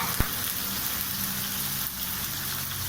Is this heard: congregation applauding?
no